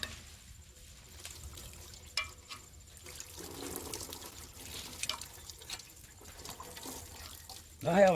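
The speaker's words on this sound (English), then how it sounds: "I have a tub underneath the bench here to catch that evapro-rust coming out." Evapo-Rust rust-remover liquid drains from a bench into a tub below during rust removal on an International 6 HP Type M engine, a faint, intermittent trickle and dripping with a voice speaking over it.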